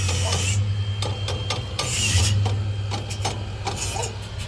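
Tack welding a new steel jack stand, an arc crackling and sputtering in short irregular bursts over a steady low electrical hum, close and fairly loud.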